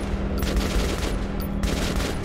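Rapid gunfire rattles through a firefight in the video game Metro Last Light, a dense, loud burst of overlapping shots with no pauses.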